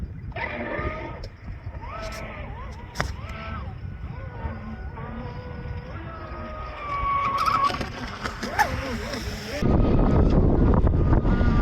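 Gusty wind buffeting the microphone outdoors by the water during an RC boat's first run, rumbling low and rising louder near the end, with bleating-like voices and tonal sounds over it.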